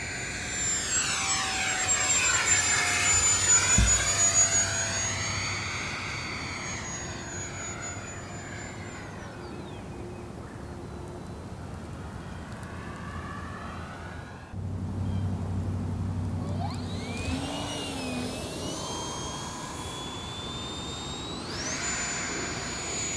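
An E-Flite Habu SS 70mm electric ducted-fan RC jet roars past in a loud whooshing flyby with a rising and falling pitch sweep, then fades to a steady distant whine before a second pass swells back in near the end.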